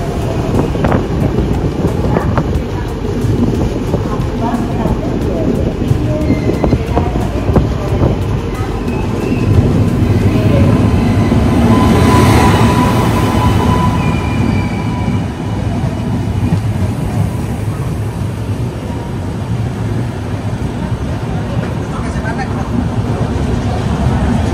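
The Sanghamitra Express, having left SMVT Bengaluru, rolls past with loud rhythmic wheel clatter and wind noise, swelling at its nearest point midway and carrying on throughout, with voices faintly in the background.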